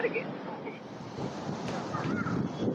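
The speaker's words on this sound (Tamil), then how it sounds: "தண்ணி வந்து அதிகமா திறந்து விட்டதுனால ரொம்ப ஃபோர்ஸா தான் வருது" River water released from the Kallanai dam rushes forcefully through a channel in a steady, fairly faint broadband roar, with wind buffeting the microphone.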